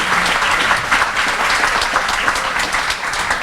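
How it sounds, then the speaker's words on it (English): A crowd at a Bank of America Neighborhood Builder celebration gives a sustained round of applause for a nonprofit, steady and full throughout with no break. "another round of applause for Rebuilding Together"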